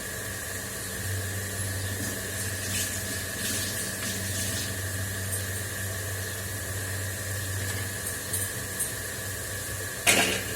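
Vegetables are rinsed under running water, a steady close rush of flow with a low pump-like hum beneath and a sharp splash near the end.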